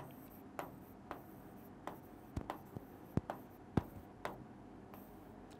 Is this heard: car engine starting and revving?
no